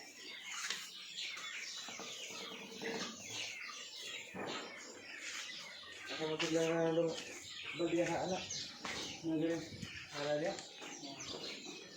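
Chickens cluck and chatter in bursts, with some higher chirps mixed in, over a low background; the fowl grow louder and busier toward the middle, near chopped banana stalks.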